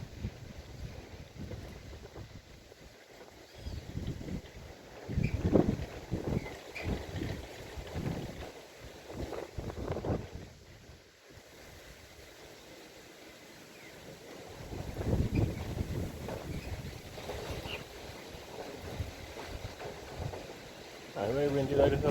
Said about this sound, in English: Because the wind is blowing on the phone